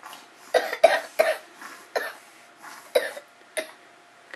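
A child coughs repeatedly, about seven short, sharp coughs in an uneven rhythm, close by and fairly loud, with quiet pauses between them.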